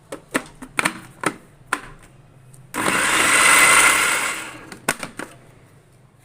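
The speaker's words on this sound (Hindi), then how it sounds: "3 अदद हरी मिर्चें डाल दूँगी और चॉपर को चला दूँगी" An electric food chopper grinds mint, coriander and green chillies in a loud, steady whirring burst of about two seconds. Sharp clicks and taps come just before and after it.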